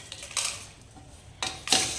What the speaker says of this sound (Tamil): இப்போ ஒரு ஈரம் இல்லாத மிக்ஸி ஜாரில் ஏற்கனவே ஆற வச்ச வரமிளகாயை கொஞ்சம் கொஞ்சமாக சேர்த்துக்கலாம்